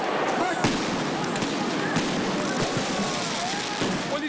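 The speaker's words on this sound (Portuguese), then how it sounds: "Em resposta, fogos de artifício contra os PMs." Fireworks fired at police during a street protest, a dense, chaotic barrage of crackling bursts and sharp pops over loud crowd noise, with voices audible throughout.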